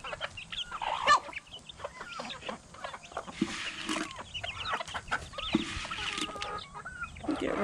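Chickens and a rooster cluck and murmur close by while eating, with scattered short clucks and squawks in an irregular, busy rhythm throughout.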